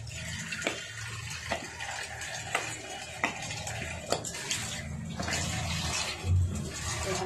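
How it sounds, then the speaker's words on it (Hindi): Water is poured into thick pav bhaji simmering in a pan during cooking, with a soft splashing wash and a few sharp clinks of stirring, close and moderately loud, with no talking. "हम इसमें थोड़ा पानी डालेंगे।"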